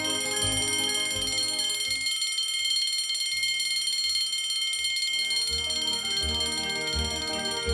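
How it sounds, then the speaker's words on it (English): A Patek Philippe Henry Graves Supercomplication pocket watch sounds its mechanical alarm: a high, continuous metallic ringing persists throughout, with some low knocking sounds underneath. "The watch's alarm function adds to its impressive list of complications."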